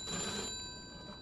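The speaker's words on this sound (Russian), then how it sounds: "Давайте подойдем к телефону и узнаем, кто нам трезвонит" A telephone rings in Mafia 2, a faint, steady electric bell tone sounding alone in the game scene.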